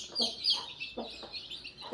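A hen clucks softly in low repeated notes while her chicks peep constantly at a high pitch nearby.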